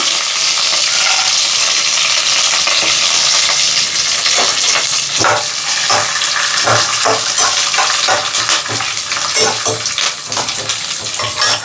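Chana dal pours into hot oil for coconut rice and is stirred. A loud, close, continuous sizzle carries rhythmic scraping and stirring strokes in its latter half, with no speech.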